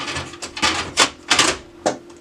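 A Brother HL-2170W laser printer toner cartridge is pushed in and clicks into place, giving a handful of sharp plastic snaps and knocks spread irregularly over two seconds, close and loud.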